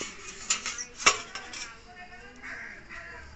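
A lid is pulled off a cooking pot of steamed chicken bhapa, with two sharp metallic clinks close by and soft clatter between them, fading into quiet room noise.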